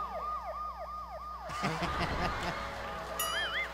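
A wailing siren rises and falls rapidly at a moderate distance, then gives way to a louder burst of engine and street noise, with the siren returning.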